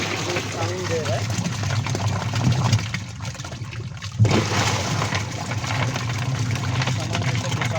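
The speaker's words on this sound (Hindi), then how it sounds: "ये आवाज़ सुन सकते जो वॉशिंग साइड हो साउंड दे रहा है।" Whirlpool semi-automatic washing machine with a faulty wash side, running with a steady motor hum and water churning close by, while someone talks over it.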